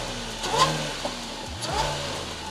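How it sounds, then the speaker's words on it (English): An Audi S4 with a rebuilt engine revs briefly through its raspy stock exhaust, a short rough blip rising and falling at close range. "Man, that stock exhaust is raspy"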